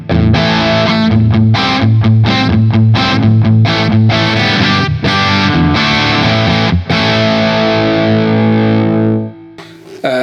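An electric guitar played through a Two Notes Le Clean preamp with 6L6 power-tube emulation, loud and punchy, strummed chords in rhythmic bursts with sustained ringing tails before cutting off near the end.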